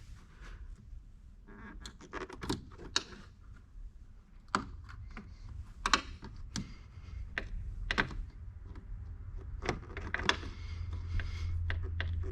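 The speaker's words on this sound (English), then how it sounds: "Get our push pins disconnected." Plastic push pins being pried and popped out of the engine bay trim on a 2020 Shelby GT500, a scattered series of sharp clicks and snaps with small rattles between them, close by over a low rumbling background.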